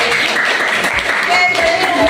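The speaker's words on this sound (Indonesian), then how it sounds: "tepuk tangan." A class of teachers claps for a participant who wrote a formula at the front, a short, close burst of applause with voices mixed in.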